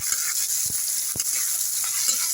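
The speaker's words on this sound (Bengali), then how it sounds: "পেঁয়াজটা একটু হালকা করে আমি ভেজে নিচ্ছি" Chopped onion frying lightly in a pan for a gram-flour fritter curry, giving a steady bright sizzle with a few soft stirring knocks scattered through it.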